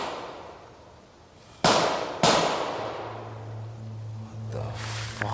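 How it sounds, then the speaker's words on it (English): Two sharp, loud gunshots from teen gang violence in Sweden, about half a second apart, each with a long ringing decay outdoors, followed by a low steady hum and faint background noise. "And they're just like casually shooting the guns."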